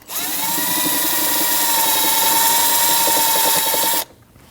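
A power tool whines steadily at high pitch for about four seconds, loosening a bolt on the idler pulley of a 2003-2008 Subaru Forester 2.5L H4, then cuts off abruptly, leaving quiet room tone.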